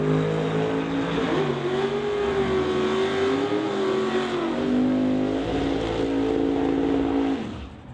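Tom Katnick's TK Performance Camaro, a Canada West Doorslammers drag car, thunders down the strip at full throttle, a loud sustained engine roar climbing in pitch before fading away as it finishes the run.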